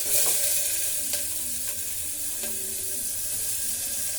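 Onions frying in a hot pan with cumin seeds and turmeric for a salt-free ridge gourd curry, giving a loud, continuous close sizzle with a few soft stirring clicks and no talking.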